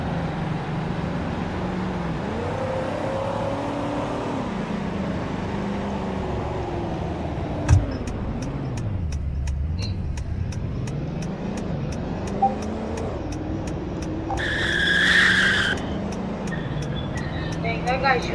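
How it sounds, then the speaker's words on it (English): A car engine in a video game drones and shifts pitch as it speeds along, with a few sharp ticks and a brief hissing burst near the end; a voice talks over it. "Dang, that guy's really driving this car fast."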